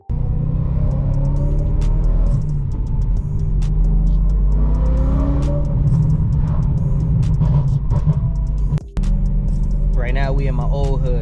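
BMW E92 M3 with its V8 engine driving, a loud steady rumble and revving throughout, briefly cutting out near the end, with someone talking over it.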